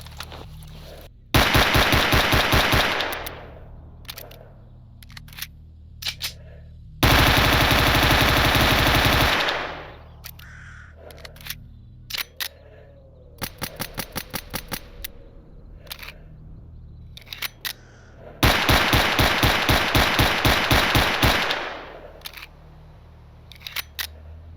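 9mm handguns firing in S.T.A.L.K.E.R. Anomaly, rapid full-auto bursts of sharp shots several seconds long, alternating with single shots and short quick strings, loud and close with brief pauses between.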